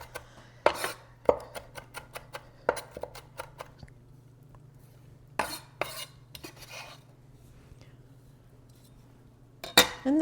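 Green chilies being chopped for a kala chana chaat, a quick series of sharp knife taps on a board in short bursts with pauses and faint kitchen clinks, under a low steady hum.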